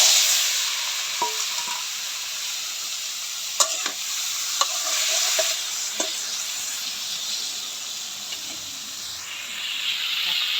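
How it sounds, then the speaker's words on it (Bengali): Steady sizzling and hissing of sliced bitter gourd, coated in salt and turmeric, frying in a pan, with a few sharp clinks of a utensil stirring, no talking. "করলা ভাজি করলাম চাক চাক করে"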